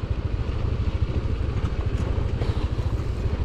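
A motorcycle rumbles along a rough, bumpy road with a steady, close engine drone and rattling clatter throughout, no talking.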